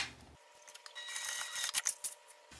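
Scissors snip through zipper tape during bag making, a few quick sharp cuts close by in a quiet room, with no talking.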